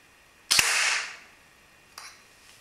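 An ARES Amoeba airsoft gun fitted with a 110 spring and a 110 mm inner barrel fires once during a velocity test: a single sharp crack followed by a hissing decay, then a fainter click about one and a half seconds later.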